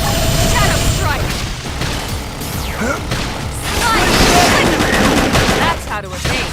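Gunfire and beam attacks in the Xenoblade Chronicles X video game: dense, continuous bursts of rapid shots and blasts with crashing impacts, loud throughout, with combat voices over the top.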